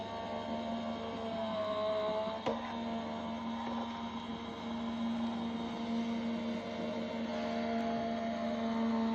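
A cardmaking die-cutting machine runs with a steady mechanical hum and faint whirring, plus a single sharp click partway through. It is fairly quiet and close, with no voices.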